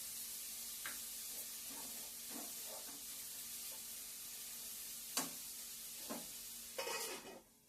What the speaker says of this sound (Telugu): అంటే ఉల్లిపాయలు అయితే వేగుతున్నాయి